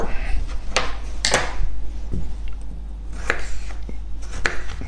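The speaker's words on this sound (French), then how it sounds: "venir découper des rondelles de 3 mm d'épaisseur environ" A knife cuts potatoes into thin 3 mm rounds on a board, giving a few sharp, irregular chopping knocks with pauses between them against a low steady hum.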